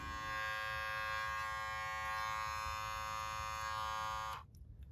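A battery-powered FruSun pet nail grinder runs with a steady, loud electric whine and high buzzing overtones, then cuts off abruptly near the end, leaving a quiet hiss.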